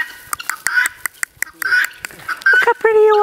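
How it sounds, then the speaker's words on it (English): Guinea hens on a farm walk give a rapid series of harsh, squawking calls close by, mixed with a person speaking. "Guinea hens."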